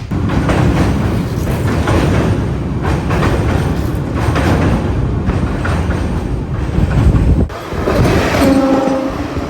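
A Mangalore Central passenger train crossing the Netravati river rumbles along loudly and continuously, wheels clattering on the rails, with a brief dip in the noise near the end.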